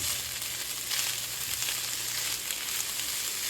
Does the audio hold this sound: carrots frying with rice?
yes